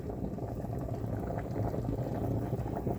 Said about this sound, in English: Now, because it's boiling so hard, I'm gonna lower down the heat to number 6.